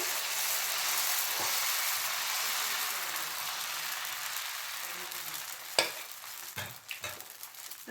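A spoonful of egg dosa batter hitting a well-heated tawa gives a steady, loud sizzling hiss that holds throughout, broken near the end by a few sharp scraping clicks.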